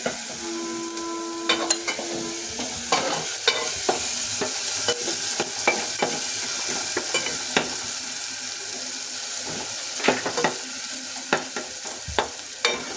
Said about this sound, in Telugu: చూడండి, ఇవైతే వేగిపోతున్నాయి.